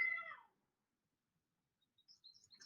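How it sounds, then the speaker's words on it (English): A short, thin meow at the start, then quiet, followed by faint high chirpy squeaks near the end. "you can hear my cat meowing"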